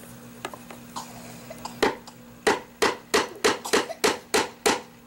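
Sharp hammer blows strike wood, a few scattered taps at first, then a steady run of about ten ringing knocks close by.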